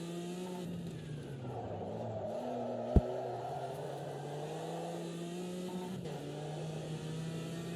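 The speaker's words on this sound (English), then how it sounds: "Rev limiter again." Race car engine in the Automobilista 2 racing game, droning steadily and bouncing off the rev limiter in a sustained, loud buzz with one sharp click partway through.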